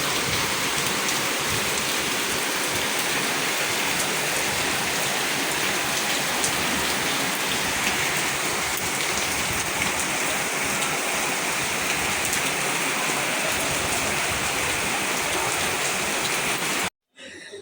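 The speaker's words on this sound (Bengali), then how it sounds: "তো বৃষ্টি নামছে, সকাল থেকে বৃষ্টি, এক ফোঁটাও নিস্তার নাই। প্রচুর প্রচুর বৃষ্টি।" A downpour of heavy rain, a thick, unbroken roar of falling water that holds steady and loud before cutting off abruptly at the very end, with no talking.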